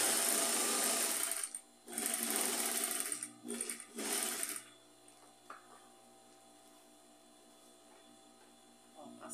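A sewing machine stitches two seams through the middle of a round rug made from knit fabric scraps, running in three close bursts of rapid whirring before falling to a quiet hum with faint handling sounds.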